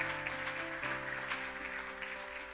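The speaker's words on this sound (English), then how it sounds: "We give the Lord a hand clap." A church congregation claps together steadily over sustained organ-like chords, the applause a continuous patter for a couple of seconds.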